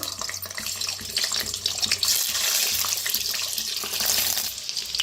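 Cut boiled eggs frying in hot oil in a kadhai give off a loud, continuous hiss and crackle that stays fairly even throughout, close up and with no talking.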